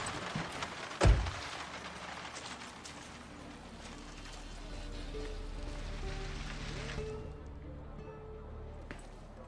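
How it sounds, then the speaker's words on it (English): Steady rain falls in Far Cry 6 as a soft continuous hiss throughout, with one sharp thump near the start and a voice talking over it. "it's raining"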